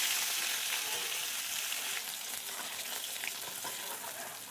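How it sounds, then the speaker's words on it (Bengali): Katla fish frying in hot oil gives a steady, loud, close sizzle with crackling hiss that holds evenly throughout, with no talking. "মাছটা ভাজা হয়ে এসছে, এবার তুলে নেব"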